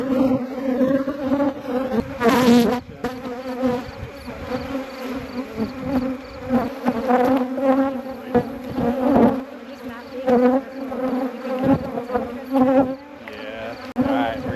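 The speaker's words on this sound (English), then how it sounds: "there are a lot of bees swarming us" Honey bees buzz loudly around beekeepers during a homestead honey harvest, a dense, close, continuous droning hum with individual bees passing near, occasional brief sounds of handling mixed in.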